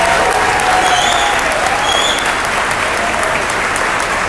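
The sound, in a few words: audience applause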